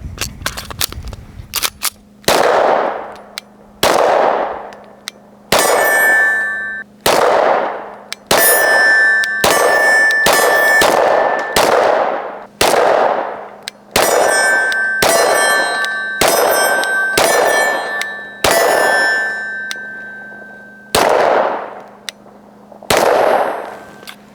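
A BCA Grizzly pistol fed from a Glock magazine with an extended base pad fires at steel targets: about a dozen loud, close shots at uneven intervals, each followed by a bright ringing clang of struck steel, with no talking.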